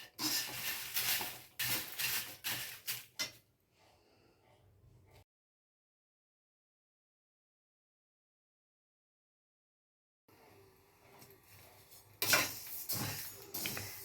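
Spices for sambar powder dry-roasting in a pan over a medium stove flame, with bursts of close scraping and clattering from stirring, a long silent gap, then more loud stirring rattles.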